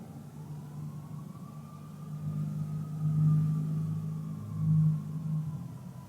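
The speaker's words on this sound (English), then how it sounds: "I don't know if you can hear the siren" A distant siren wails faintly in the background, its pitch rising and falling slowly under a low steady hum, swelling a little louder twice before fading.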